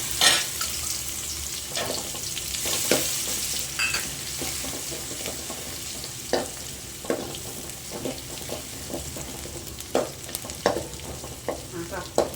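Steady sizzling of crushed garlic, cumin and pepper frying in hot oil for rasam, with occasional stirring scrapes and small clinks throughout, up close and with no voices.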